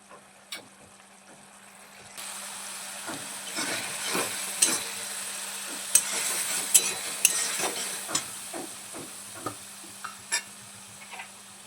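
Spice paste with curd being sautéed in ghee in a pan, with a steady low sizzle and repeated close spatula scrapes and clinks, the sizzle starting after a quiet moment; no talk.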